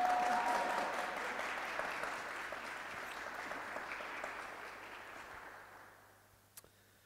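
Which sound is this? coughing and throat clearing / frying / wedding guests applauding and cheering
wedding guests applauding and cheering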